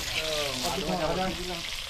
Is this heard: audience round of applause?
no